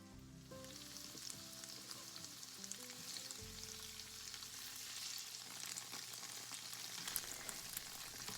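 A constant crackling sizzle of tofu browning in a hot frying pan, with low tones fading out early on, then steady sizzle alone.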